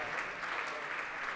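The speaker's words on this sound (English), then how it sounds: "So give them a huge round of applause" Steady, dense applause from an audience at a dance competition fills the space with continuous clapping at moderate volume from start to finish.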